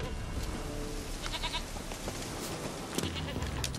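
A goat bleats faintly in The Witcher 3: Wild Hunt over a dense, noisy background of ambient game sound, with brief bright tones scattered through.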